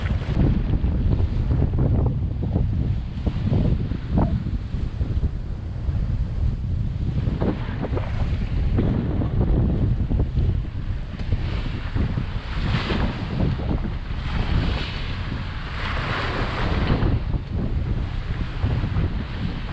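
A sailboat under way on the passage from Grenada toward Carriacou surges through wind and waves: constant loud wind buffeting the microphone, with water rushing and slapping against the hull the whole time.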